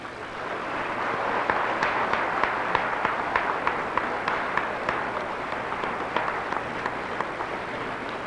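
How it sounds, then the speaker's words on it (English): A graduation audience applauds an honored guest, the clapping dense and sustained for several seconds, with individual sharp claps standing out over a steady wash from a large crowd. "If we could give our honored guest a round of applause"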